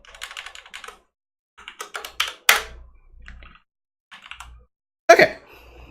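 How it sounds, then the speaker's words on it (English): Clicky typing on a computer keyboard during Windows 95 setup, in several short bursts of keystrokes separated by pauses, with a couple of louder single key strikes, close and fairly quiet. "Oh, it helps if I can type, doesn't it?"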